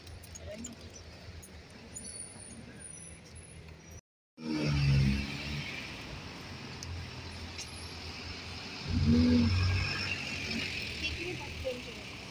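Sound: heavy road traffic on a weekend walk

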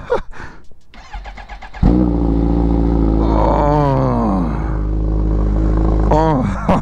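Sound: Kawasaki Ninja H2R motorcycle engine starting, revving

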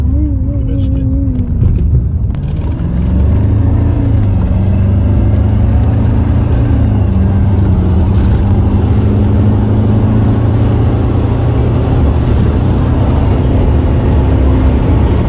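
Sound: Stage 3 tuned car engine while driving

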